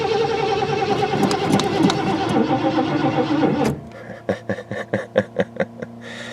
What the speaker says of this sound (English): Hopefully it'll start and run